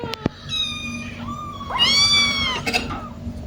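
Dewormed baby kittens climbing about while giving several high, drawn-out meows close up, with small taps and scuffs between the cries.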